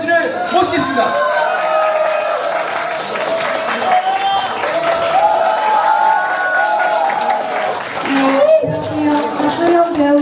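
Audience applause fills a stage event for a charity sharing project, broad and steady for about ten seconds, with some cheering and voices mixed in throughout.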